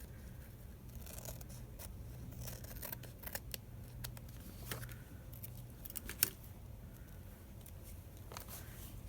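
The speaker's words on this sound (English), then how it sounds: "I'm going to cut that off and put it right on somewhere right away" Scissors snipping through paper to cut out a picture for a budget journal, soft scattered clicks and cuts over a quiet low hum, close but faint.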